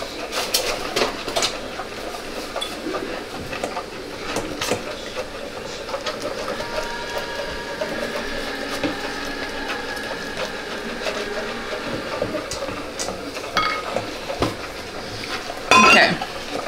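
A spoon stirs a chocolate mixture in a pot with repeated scraping and clinking against the metal, uneven in rhythm, with a steady background hum and a brief louder clatter near the end.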